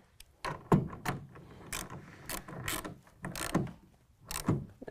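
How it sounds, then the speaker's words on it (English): Several sharp clicking ratchet-like snaps with short pauses between them as a clamp on a Gator HR1 tonneau cover rail is tightened down on a 2019 Ram 1500, close and fairly quiet. "and then tightening this clamp down."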